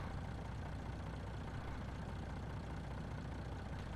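A Great American semi truck engine idles steadily in Farming Simulator 19, a constant low rumble that holds unchanged throughout with no talk.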